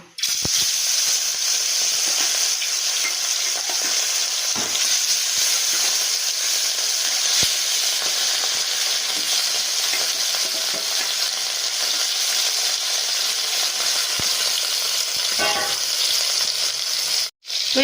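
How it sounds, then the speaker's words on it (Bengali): Fish pieces slid one by one into hot oil in a wok crackle and sizzle loudly and continuously, with small pops and stirring clatter throughout, cutting off abruptly near the end; no talk. "এবার আমি কড়ার মধ্যে মাছগুলোকে একে একে ছেড়ে দেবো এবার মাছগুলো আমি একে একে দিয়ে ভেজে ভেজে নেবো"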